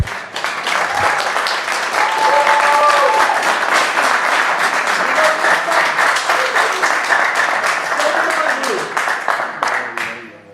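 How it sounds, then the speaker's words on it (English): Sustained applause from an audience packed into a Rhode Island legislative hearing room, loud and dense with rapid overlapping claps. It holds steady for about ten seconds before tapering off at the end. "The next time there is applause like that, we will have to clear the room."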